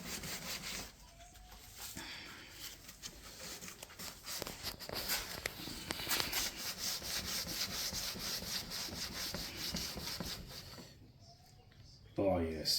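Hand sanding of a Jaguar X-type's rattle-can paint with 600 grit sandpaper, a continuous close rhythmic rubbing scratch that fades out near the end, with people talking over it.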